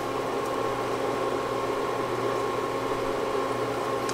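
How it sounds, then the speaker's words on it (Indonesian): Savory snack dough, Malaysian-style keripik, frying in a pan of hot oil, giving a steady, even sizzling hiss that holds unchanged throughout with no voices. "Panaskan minyak, kita menggoreng."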